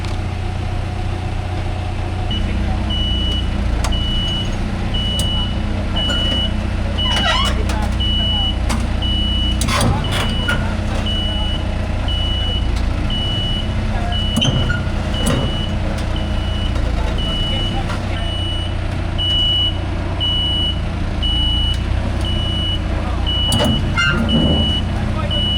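Heavy haulage truck idling loudly throughout while being unloaded, with a faint repeating reversing beeper and occasional clanks and knocks over the steady engine rumble; people talk at times.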